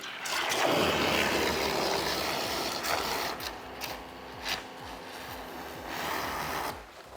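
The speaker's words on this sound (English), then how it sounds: "we're using a turbo nozzle on the pressure washer" A pressure washer fitted with a turbo nozzle sprays a car in a steady, close, hissing rush of water with slight fluctuations, alone without voices.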